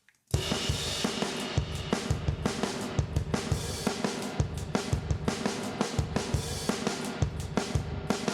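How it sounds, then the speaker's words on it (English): Dense crackling noise, like vinyl static with scattered pops and thumps, plays continuously at a steady level after a brief silent start. "I'm gonna load up this crackle kit, which on its own sounds like this"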